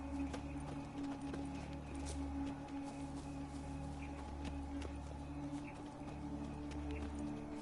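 Rhythmic clip-clop of horse hooves in The Witcher 3, a steady moderately loud trot over a constant low ambient drone, with faint bird calls and no talking.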